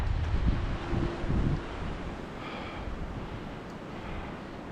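Wind blows through pine woods near a bog, a steady broadband rush with stronger low gusts in the first second and a half, then a softer even whoosh.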